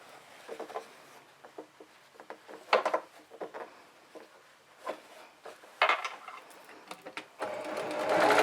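A sewing machine stitches a fabric mask in short, irregular bursts of rapid clattering needle action separated by brief pauses, close and fairly loud, ending in a longer continuous run.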